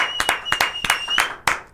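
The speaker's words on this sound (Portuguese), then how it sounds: "quero mais palmas aí, parabéns, Matheus Faustino." Applause from a Brazilian audience at a political talk show, a short burst of scattered claps with sharp separate hits rather than a dense roar.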